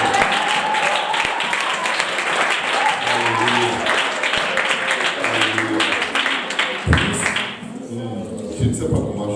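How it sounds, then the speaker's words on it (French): A church congregation applauds, a dense wash of many clapping hands that goes on for several seconds, loud and steady, with voices mixed in before it thins out near the end. "Est-ce qu'on peut acclamer le Seigneur?"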